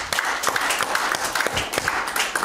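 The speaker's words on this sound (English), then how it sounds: "Give the Lord a hand clap." A church congregation at a Sunday service claps hands together, a loud, fairly steady run of overlapping claps with rhythmic peaks, lasting throughout.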